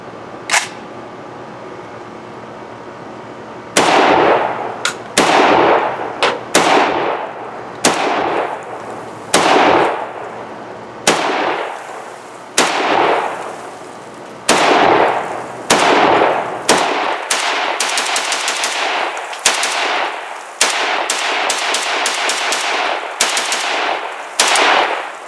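A Cugir GP-WASR10/63 rifle fires a long string of loud, sharp shots, first spaced single rounds and then a quicker, denser run, each crack ringing out with a short echo.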